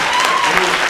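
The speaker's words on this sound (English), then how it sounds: "No, that's an applause." Audience at a film Q&A panel breaks into a brief burst of applause, a dense, even wash of clapping filling the whole moment.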